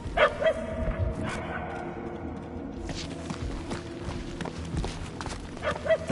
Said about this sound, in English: The barks are getting louder